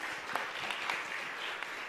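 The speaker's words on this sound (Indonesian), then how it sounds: "Silakan tepuk tangannya dulu untuk panelis ini." Audience applause for a panelist at a religious scholars' congress hall, steady broadband clapping from a crowd lasting throughout, moderately distant with a few sharper individual claps standing out.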